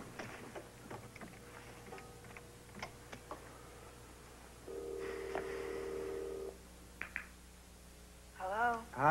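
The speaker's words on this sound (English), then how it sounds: "Look, I need to use the phone, okay?" A telephone being dialed indoors, with soft scattered button clicks, a steady tone for a couple of seconds, then a quick burst of dialing beeps near the end.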